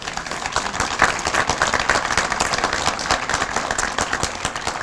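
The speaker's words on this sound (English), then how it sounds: "Our police department, let's give them a round of applause." Outdoor crowd at a Veterans Day parade and ceremony in Florissant gives a steady round of applause for the police department, dense clapping sustained at even loudness throughout with no talk over it.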